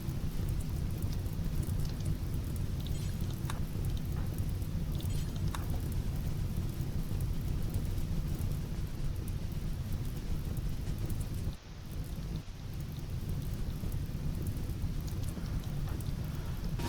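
Steady rain falls in the RimWorld video game, a dense, even hiss with low rumbling that keeps on throughout and briefly dips near the end, with no voices.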